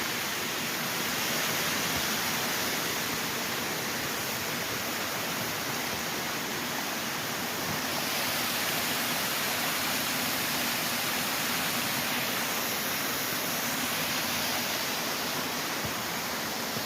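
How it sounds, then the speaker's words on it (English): A waterfall on the Natchez Trace Parkway, heard from the top of a wooded hollow, pours with a steady broad rushing roar that stays constant and unbroken throughout, with no voices over it. "This is the waterfall from the top of the hollow."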